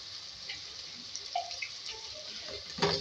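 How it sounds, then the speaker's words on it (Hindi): A little water poured into spiced masala in a pan for a chicken fry masala, a soft, close trickle and light splashing with brief louder spurts at the end, no speech. "थोड़ा सा पानी डाल के इसको भूनेंगे।"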